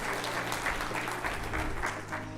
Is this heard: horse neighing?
no